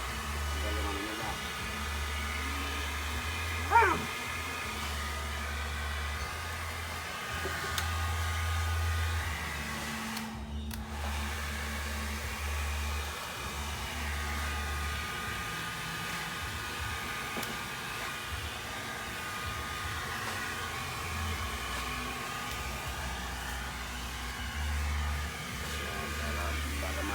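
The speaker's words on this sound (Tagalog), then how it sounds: "Blower ko yan para mabango." A pet blower dries a freshly bathed pet, producing a steady low mechanical whir that runs continuously under background sounds.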